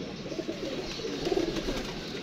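A prized flying pigeon with damaged feathers coos softly in a short run of low, rolling calls, quiet and close, with no other sounds over it.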